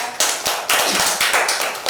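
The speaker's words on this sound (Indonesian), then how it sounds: "Tepuk tangan Mbak Aura." A small group in a class session gives steady, close applause, a loud burst of overlapping claps lasting about two seconds.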